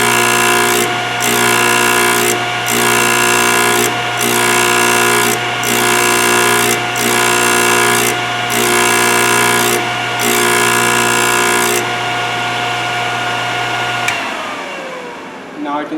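Thorvie AV-40 sharpening machine grinding the edge of a hole saw, a loud steady motor whine broken into about nine evenly spaced grinding passes, then the motor winds down and stops near the end.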